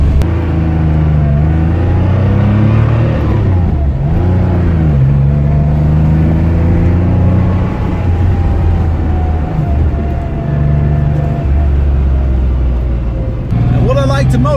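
A Porsche 911 Carrera Targa more than 30 years old revs and accelerates, its engine note rising and falling through gear changes, loud and continuous close to the listener.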